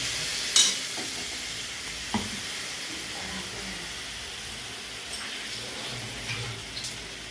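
Sliced brinjal fries and sizzles in a pan for a Bengali begun posto, with a steady low hiss of frying and occasional soft stirring scrapes and clinks throughout, no talk.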